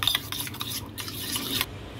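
Spices and turmeric are stirred into soya chaap in a bowl, giving soft close scraping and rubbing strokes in short uneven bursts, fairly quiet, with no talking.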